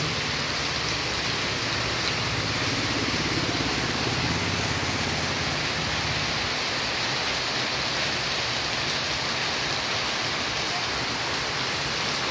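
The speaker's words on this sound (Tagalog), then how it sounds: "malakas ang ulan" Steady rain in Pangasinan, Philippines, hissing down across the whole stretch, a dense, even wash of noise with no voices, constant from start to finish.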